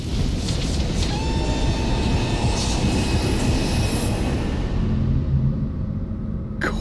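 A train car rumbles along in the puzzle game The Room Three, with steady loud clatter, squealing wheel tones and a rolling low drone that eases off near the end.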